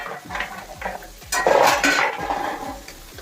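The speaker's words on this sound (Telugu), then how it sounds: "ఇలాగ కలిపేసుకుందాం అండి, బాగా వేయించుకుందాం ముక్కలు మెత్తబడే వరకు" Chopped carrots with curry leaves, salt and turmeric are stirred and fried in a metal pan: a spatula clatters and scrapes in repeated close strokes over a light frying sizzle, with no voices.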